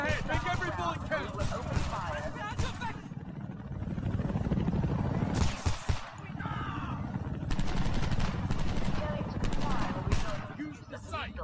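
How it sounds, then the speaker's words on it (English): Gunfire in the war shooter Homefront: rapid crackling bursts of automatic fire with sharp individual shots, mixed with a helicopter-like drone and game dialogue spoken over the shooting throughout. "Start shooting."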